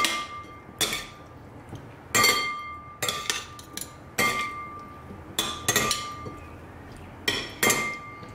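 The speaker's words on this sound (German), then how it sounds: "Jetzt gut umrühren, dass sich die Marinade schön verteilt." Cooked beans are stirred in a marinade, with a spoon clinking against a glass bowl in irregular, crisp taps spread over several seconds against a faint steady tone.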